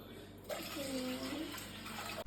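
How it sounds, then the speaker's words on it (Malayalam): Cold water poured into strained lime juice, a brief soft steady trickle over a quiet background hum. "ഇതിനകത്ത് കുറച്ച് ഇച്ചിരി തണുത്ത വെള്ളം ഒഴിക്കാം"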